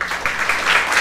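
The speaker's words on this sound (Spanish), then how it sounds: "Vamos a dar un aplauso al Señor" A church congregation applauds in a brief, steady burst of many hands clapping together, filling the room evenly with no voices rising above it.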